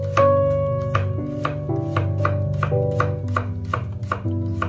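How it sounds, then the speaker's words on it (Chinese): A knife rapidly minces peeled garlic cloves on a cutting board. About a dozen sharp, evenly spaced chops sound close up over soft background music. "然后直接给它剁成蒜末就可以了。"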